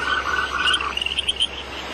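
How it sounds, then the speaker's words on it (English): Frogs croak in the forest of Neidong Frog Valley, a dense, continuous chorus of rapid rattling calls with no voices over it. "You can hear our noisy croaks all the way down the valley, especially during breeding season."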